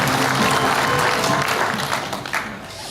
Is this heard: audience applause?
yes